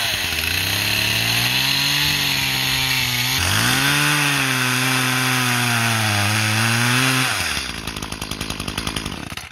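A chainsaw runs steadily at high revs while cutting damp brush, its pitch sagging and rising as the bar bogs and clogs, then dropping to a rougher, sputtering idle near the end; loud and close, with no talk.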